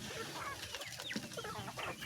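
Chickens and chicks clucking steadily as they feed in the late afternoon, with overlapping close-up clucks and cheeps over a continuous farmyard background.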